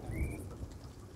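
Rain patters steadily during a storm in the video game Sea of Thieves, with a low rumble of thunder underneath, heard briefly and without talk.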